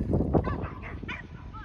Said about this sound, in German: Da können die Hunde sich austoben.